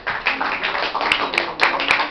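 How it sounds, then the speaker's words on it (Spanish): A small audience claps for a guest speaker at a community gathering, a brief patter of hands lasting about two seconds with a few sharper individual claps standing out near the end. "Un saludo y un aplauso para Leonora"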